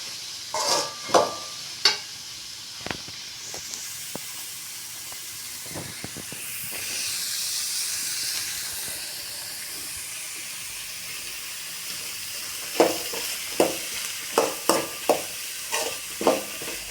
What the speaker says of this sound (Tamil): அதெல்லாம் போட்டு பீன்ஸ்லாம் போட்டு அப்படியே ஒரு வதக்கி விடுவோங்க